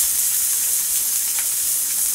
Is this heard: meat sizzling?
yes